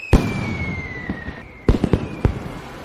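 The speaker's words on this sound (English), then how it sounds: "Watch the fireworks." Fireworks burst in a quick series of sharp, loud cracks, with a high descending whistle trailing across the first half and a tight cluster of pops near the end.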